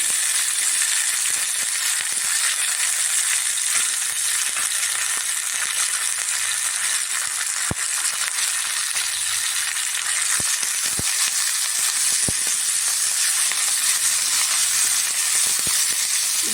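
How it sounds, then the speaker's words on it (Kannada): Ginger garlic paste, tamarind and salt fry in a couple of spoons of hot oil, giving a steady, loud, close sizzling hiss that runs unbroken throughout, with a few faint clicks and no voices. "ಎಣ್ಣೆಗೆ ಹಾಕಿ ಮೊದಲು ಸ್ವಲ್ಪ ಎರಡು ಸ್ಪೂನ್ ಎಣ್ಣೆ ಹಾಕಿದ್ದೀನಿ ಇದನ್ನು ಹುರ್ಕೊಳ್ಳೋಣ"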